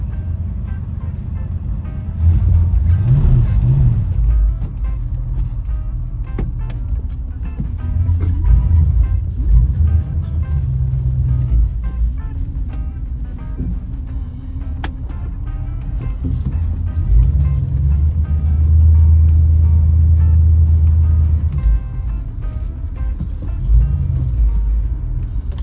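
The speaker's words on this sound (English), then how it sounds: "we're in the little red Mustang, and we're just letting her warm up a second" A 1965 Ford Mustang convertible, red, with a noticeable vibration, idles to warm up and then drives off, a deep steady engine rumble swelling and easing at close range, with no talking.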